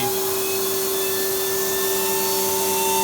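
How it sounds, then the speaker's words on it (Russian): Air supply switched on in a DBST-10 balancing machine, giving a loud, steady whooshing hum with a constant tonal whine that holds throughout without change. "Включаем подачу воздуха."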